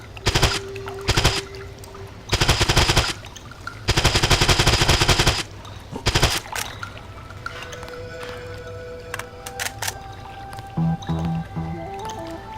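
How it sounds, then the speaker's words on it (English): Automatic gunfire at green barrels in the Deus Ex Nameless Mod game, with loud rapid bursts of shots and several longer sustained volleys, followed by squishing, dripping liquid and bubbling game effects. "What happens if I shoot these green barrels?"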